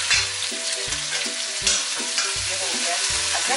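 Ginger garlic paste fries with onions in a pan for khichri, giving a steady close sizzle broken by regular scraping stirs about every second, with no voices.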